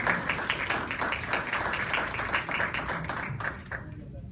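An audience breaks into applause after a presentation, a dense, sustained clapping from many hands close by that tapers off near the end.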